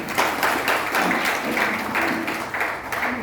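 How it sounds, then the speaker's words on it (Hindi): A crowd at a Shiv Mahapuran katha gathering claps loudly, a thick, continuous roar of many hands that stays strong for the whole stretch with faint pulsing and no speech on top. "इनकी बड़ी सेवा रही भाई, जोरदार तालियां के लिए।"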